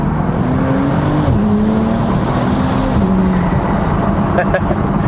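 A Bentley in sport mode with a manual gearbox, accelerating hard from the cabin, a loud steady engine drone rising in pitch with a shift between gears, with someone talking over it.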